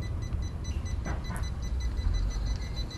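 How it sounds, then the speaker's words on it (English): Rapid, evenly spaced electronic beeps from a Wrangler mobility scooter's backup sensor repeat throughout, fairly faint over a steady low rumble of engine and road noise. "the closer we get to the vehicle, you can actually hear that beeping speed up and get louder"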